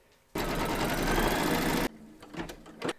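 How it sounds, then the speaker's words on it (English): A home embroidery machine stitches a securing round through two layers of fabric clamped in the hoop for an in-the-hoop crazy patch quilt block, a loud, steady, rapid mechanical chatter for about a second and a half that stops abruptly, followed by quiet handling clicks. "We're now going to pop our hoop into our machine and stitch round number three"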